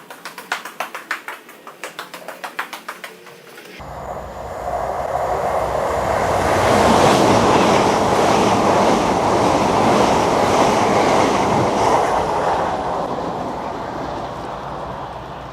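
A Class 387 electric train rolls past at Hitchin station, a steady loud rushing hum that swells and then slowly fades, following brief rhythmic clicking at the start.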